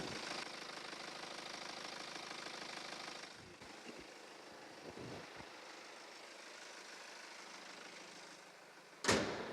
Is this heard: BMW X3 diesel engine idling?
yes